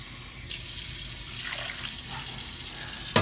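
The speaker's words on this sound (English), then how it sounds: "I'm not sure if I'll be able to fit 3 cups of water in here or not." Water pours steadily into a pot for ham and potato soup, a continuous splashing rush that starts abruptly and runs close up.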